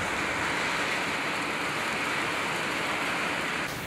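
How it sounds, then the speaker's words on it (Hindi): Heavy rain pours down outside in a hilly setting after a storm, a dense, constant hiss that fills the whole stretch without letup. "अभी बारिश तेज गिरने लगी है"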